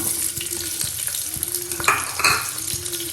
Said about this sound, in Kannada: ಈಗ ಈರುಳ್ಳಿ ಈರುಳ್ಳಿ ಆ್ಯಡ್ ಮಾಡಿಕೊಳ್ಳೋಣ